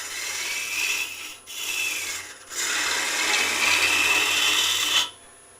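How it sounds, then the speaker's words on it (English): A 6mm carbide tool cuts a wooden Easter egg spinning on a lathe, giving a hissing scrape in three long passes separated by brief pauses. The motor hum continues underneath. "so we got a little 6mm carbide tool, and I'm just going to finish off my shape here."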